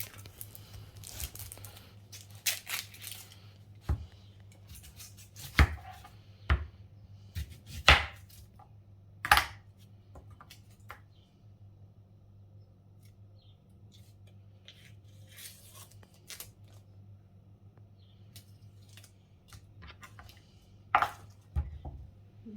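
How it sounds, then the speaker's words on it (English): Slicing ingredients for a lamb, kumara and spinach coconut curry into a crock pot, with sharp knife chops in uneven clusters over a steady low hum, loud strikes early and sparse cuts later. "Just slice them up as they're going in the crock pot"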